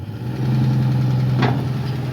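An engine runs at a steady idle, a close, even low hum with a brief rising whine near the middle, and no voices.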